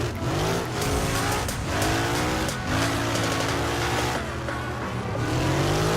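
A racing car driven in the Assetto Corsa sim drifts with the handbrake, its engine revving hard while the tires squeal in long sweeping slides, loud and continuous.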